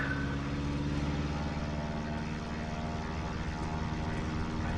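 A bushplane's engine roars at take-off power on a backcountry Idaho runway, a loud, steady propeller drone with a dense rumbling hum that holds constant throughout.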